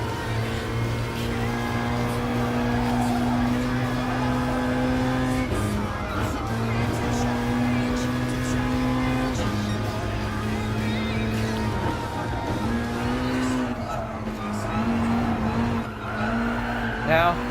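A race car engine drones loudly and steadily in Gran Turismo Sport, its pitch dropping and climbing through gear changes, with tires squealing at moments while chasing a BMW M6 on track.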